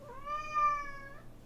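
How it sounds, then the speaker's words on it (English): One drawn-out, clear meow from a cat, close and moderately quiet, rising slightly and then falling away, with no talking. "Meow, meow, meow,"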